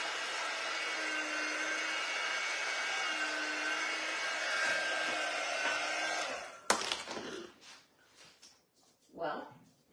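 A hair dryer blows steadily on newly monogrammed bags for several seconds, then cuts off abruptly, leaving a few clattering handling sounds and a short voice.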